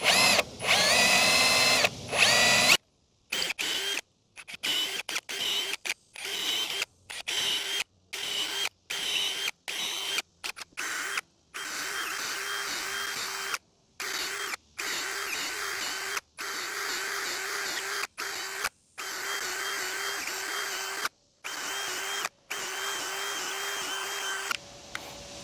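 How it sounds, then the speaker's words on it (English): Power drill whirring in repeated bursts, drilling post holes for a stainless cable deck railing through a jig, starting and stopping many times with short pauses between runs, close and fairly loud. "So just make sure you're holding the drill bit straight"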